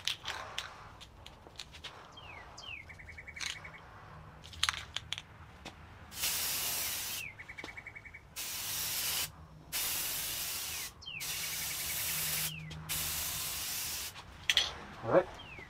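Spray gun coating a Yamaha V Star 1300 motorcycle fairing: several long, steady hissing bursts of a few seconds each, close and fairly loud, separated by short pauses with faint shuffling and handling noises.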